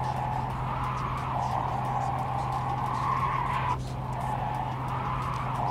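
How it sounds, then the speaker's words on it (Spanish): Sustained tire squeal from a car skidding under braking in the Cyberpunk 2077 video game, a steady loud screech over engine drone lasting throughout and cutting briefly near the end. "¿Y este ruido de ruedas chirriando?"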